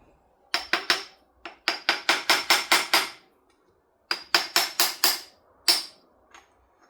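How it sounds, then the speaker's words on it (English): Sharp metallic hammer taps on an engine bearing end cap of a Leyland 154 tractor, roughly a dozen ringing strikes in two clusters with a final lone hit, close and loud. "Get a hammer to tap this end cap off."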